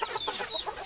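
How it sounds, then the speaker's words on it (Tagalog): Small chicks peeping in a group of thirteen, a rapid run of thin, high chirps overlapping with no pauses, close by and fairly quiet. "13 pirasong sisiw."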